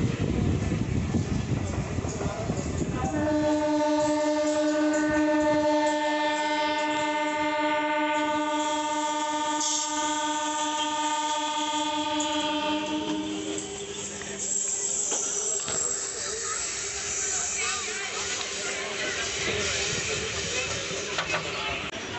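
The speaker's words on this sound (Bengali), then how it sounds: "আমাদের ট্রেন এখন 1 নম্বর থেকে 3 নম্বরের লাইনের দিকে উঠে পড়ছে।" A Bengal local train on the Santragachi–Amta line rumbles steadily along the rails, and a long, loud horn blast sounds over the running noise partway through before the wheel rumble carries on alone.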